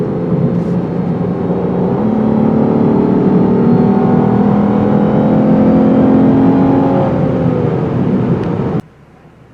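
A 2020 Lexus IS 350 is driven along tight-cornered backcountry roads at night, its engine a loud steady drone that rises in pitch and falls with each change in speed, then cuts off abruptly near the end.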